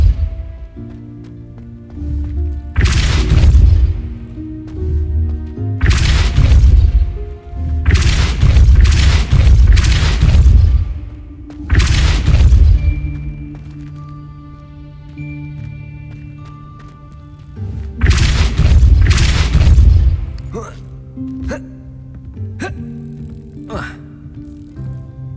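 Depulso spell impacts in the video game Hogwarts Legacy land as a series of heavy booming blasts, five or six strong hits spaced a few seconds apart over a musical game background.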